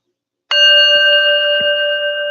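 A meditation bell struck once, ringing with a bright, pure sustained tone that hangs and slowly decays, close and clear against silence, with a couple of faint soft taps beneath.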